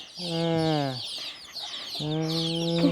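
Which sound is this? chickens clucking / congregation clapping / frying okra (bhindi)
chickens clucking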